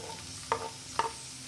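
Tomatoes tipped into onions frying in a pan for a potato, carrot and pea curry, giving a low steady sizzle with two quick scraping stirs close by, no talk.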